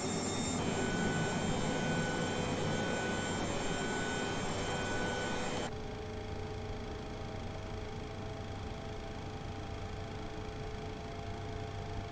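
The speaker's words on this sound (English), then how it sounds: "we have a good start on engine number 2" Jet engine of a Boeing 737-300 in the X-Plane 11 flight simulator spooling up during start, a loud steady whine and roar with tonal hum that drops to a quieter, settled running drone partway through.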